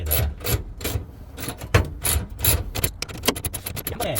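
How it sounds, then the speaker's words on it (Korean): A wrench turning a bolt onto a bracket for a Porter 2 double cab rear seatback modification, with a run of quick metallic ratcheting clicks and scrapes, close and loud, no talking. "볼트 머리를 잡아주고 렌치 머리를 잡아주고 이쪽에 볼트를 체결합니다."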